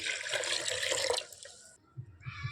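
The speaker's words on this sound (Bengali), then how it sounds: "এতে আমি একটু পানি দিয়ে দিচ্ছি" Water is poured into a cooking pot of coconut milk. A steady close splashing stream runs for just over a second, then stops, followed by a few faint clinks and drips.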